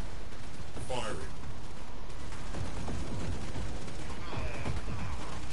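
A Railjack ship in Warframe fires torpedoes in a quick burst of sharp, gunfire-like blasts and mechanical clatter. A voice talks over dense combat noise throughout.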